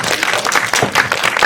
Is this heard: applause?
yes